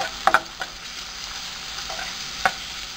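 Chopped tomato and beans are sautéed in a pan for noodles: a soft, steady sizzle with a few sharp utensil clinks against the pan near the start and again later, close by, no speech.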